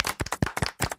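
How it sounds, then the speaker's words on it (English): A short burst of scattered hand claps, a few individual sharp smacks in uneven rhythm rather than a full ovation, close and fairly quiet. "Well done, Palace. You did good. Golf clap."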